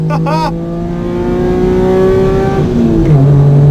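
A Mitsubishi FTO Version R revs hard around a race track, its engine note climbing steadily in pitch and then dropping sharply with a gear change, loud and close throughout, while a voice speaks briefly near the start.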